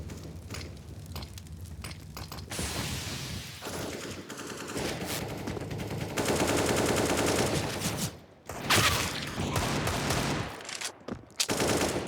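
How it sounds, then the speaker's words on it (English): Sustained gunfire sprayed through a smoke grenade in a Counter-Strike Vertigo match, dense bursts of automatic rifle fire and shots rattling almost continuously, loud and close with brief gaps near the end. "Twist trying to punish Coldy as he spammed a fair few bullets through the smoke"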